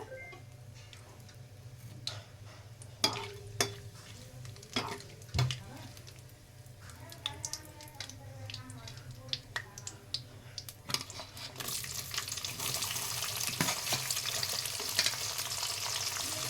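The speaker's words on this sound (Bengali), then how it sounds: "এবার আমি এখানে লম্বা করে কেটে রাখা পেঁয়াজ দিয়ে দেব।" Sliced onions frying in oil with whole spices for chicken biryani: a soft, steady sizzle with scattered ticks and stirring knocks that swells into a louder, brighter hiss toward the end.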